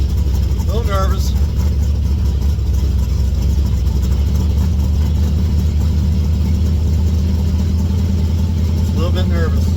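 Steady, loud mid-pitched engine drone from a Chevrolet Vega out on a drive after a transmission swap, holding an even rumble throughout with a couple of brief high chirps.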